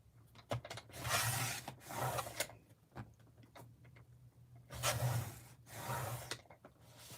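A paper trimmer slices card stock down to size in two long rasping strokes, with light taps and clicks of handling between them, close and fairly quiet.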